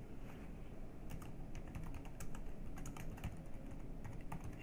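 Quick, steady keystrokes on a computer keyboard as a title is typed into software, light close clicks in an irregular rapid rhythm with no talking over them.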